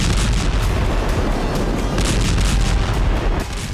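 Explosions from a Ukrainian drone strike on a Russian weapons depot in Donetsk merge into a loud, continuous broadband roar with repeated heavy booming bursts and no voices.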